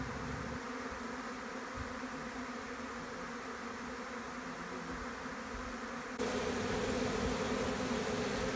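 A honey bee swarm buzzes in front of a small nucleus hive box, a dense continuous drone of many wings that swells louder near the end.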